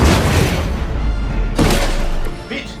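Gunfire and explosions in the video game Midnight Suns rumble in a loud, sustained low boom with a second heavy impact midway, then fade near the end.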